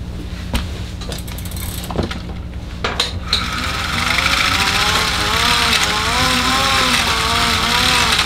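A bicycle wheel pedaled to drive a bike generator for 18650 battery packs, a few clicks and knocks first, then a rising, steady whirring hum that swells and settles as the wheel spins up, close and fairly loud.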